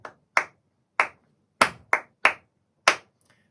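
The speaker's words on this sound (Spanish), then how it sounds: "dos acompañamientos de palmas para bulería a 12" Flamenco palmas for bulerías: seven sharp, crisp hand claps land in an uneven, syncopated pattern, loud and close, with silence between them.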